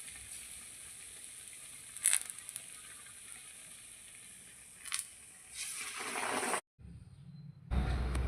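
Dough frying in hot oil gives a steady, soft sizzle with a few sharp crackles and splashes, then a brief silence before a louder burst of sizzling at the end. No one speaks.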